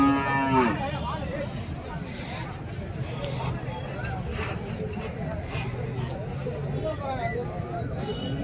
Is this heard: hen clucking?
no